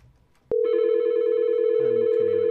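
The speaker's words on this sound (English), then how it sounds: "we can hear it's all ringing there" Ringback tone on a FusionPBX phone system after dialing local extension 201: a sudden click, then a loud steady electronic ringing tone that continues unbroken, with faint lower tones joining near the end.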